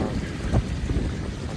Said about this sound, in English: The wind's really, really strong right now.